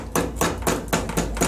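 A hammer taps a tapered roller bearing part into place, making six evenly spaced, close metallic knocks in quick succession.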